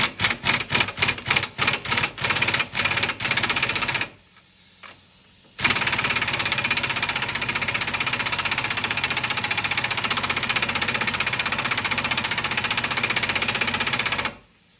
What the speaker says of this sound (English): I'm going to tighten this down, then I'll torque it after I get it tightened down.